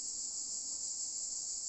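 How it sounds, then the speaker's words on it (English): Cicadas sing in a continuous, loud, steady high-pitched drone on a hot Italian summer day, with no break or voices over it. "Here we are on a summer day with the cicadas singing in the background"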